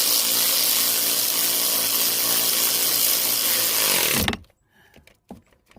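A power tool drives engine mount bolts tight on a Pontiac G6 V6, one loud continuous whirring buzz held for about four seconds that then cuts off abruptly, leaving faint clicks and handling noise.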